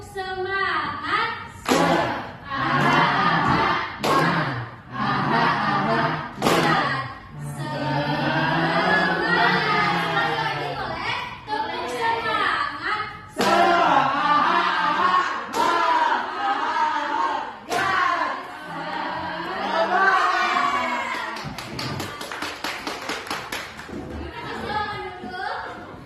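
A high-school class in a classroom claps out a rhythmic cheer chant together, loud bursts of sharp unison claps mixed with shouted group voices, then a dense flurry of fast claps near the end.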